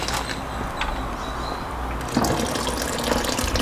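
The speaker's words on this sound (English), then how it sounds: "let's add some cold water so it will stop the cooking" Cold water pours into a pot of cooking vermicelli kheer, a steady splashing gush that runs for several seconds with a brief stronger surge midway, close and moderately loud.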